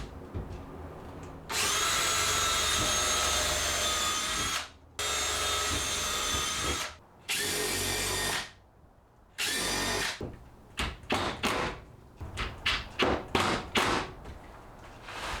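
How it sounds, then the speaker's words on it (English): Cordless power drill driving screws into wooden intermediate posts of a DIY garden cold frame: three long, loud whirring runs, then a string of short stop-start trigger bursts as each screw is seated, close by with no talk. "Now we'll just get some screws in these 4 intermediate posts"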